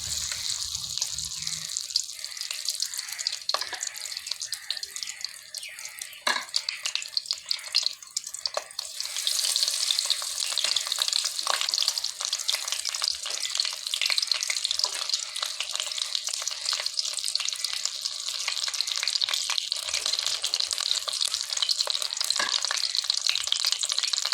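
Capsicum pieces fry in a little oil in a pan, a continuous close crackling sizzle that grows denser and louder partway through, broken by occasional sharp pops and knocks.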